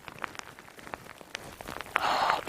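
Rain falls in the remote Alaska wilderness with scattered drops tapping close by, thickening into a louder steady patter near the end.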